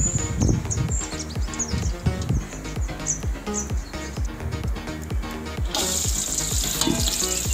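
Oil and ghee sizzle hot in a pan for biryani, a loud continuous frying crackle with rhythmic stirring knocks throughout that brightens into a fiercer hiss near the end.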